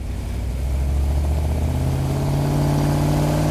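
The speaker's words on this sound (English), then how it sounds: "It's also kind of a cool shot because you can see that engine working down in there." A Hemi Cuda muscle car engine running, a loud, close, steady rumble with a deep throb whose tone climbs slightly toward the end.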